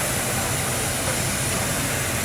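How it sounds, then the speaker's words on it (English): A Grand Canyon Railway steam locomotive, freshly refitted in 2021 and running with an Amtrak F40 diesel coupled behind, rolls past loud and close in a continuous roaring hiss of steam and rail noise with no break. "There's the steam locomotive, and then there's an F40 Amtrak locomotive behind the steam locomotive."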